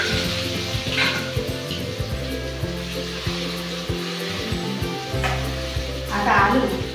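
Potatoes and cumin seeds sizzle in hot oil for sabudana usal, a steady close frying hiss under the occasional scrape of a stirring spoon.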